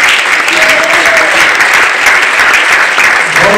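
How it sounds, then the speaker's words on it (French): At an awards ceremony, an audience applauds Rocco Bokabela Bodo with sustained, thick clapping that carries on evenly without a break. "Est-ce qu'on peut vraiment applaudir pour Rocco Bokabela Bodo"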